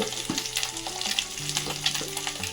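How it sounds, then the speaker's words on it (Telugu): An omelette fries in oil in a pan, a steady close sizzle with spattering crackles and faint utensil scrapes throughout. "ఇలా ఆమ్లెట్లోనే రెండు వైపులా మంచిగా కాల్చుకొని పక్కన పెట్టుకోవాలండి"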